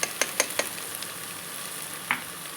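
Onions and ginger paste frying in a pan for chicken pulao, steady sizzling with a quick run of spoon taps on the pan at the start and another tap near the end.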